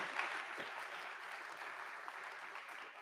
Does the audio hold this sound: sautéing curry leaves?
no